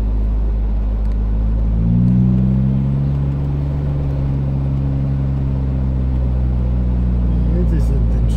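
A V6 car engine idles with a deep, steady rumble, then revs up around two seconds in and holds a strong, throaty drone close by, with faint voices in the background.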